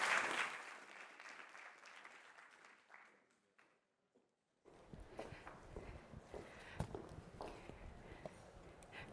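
Applause from a conference audience welcoming speakers to a session on fashion policy. A loud burst of clapping fades to near silence, then resumes as a busier, scattered patter of claps and crowd noise.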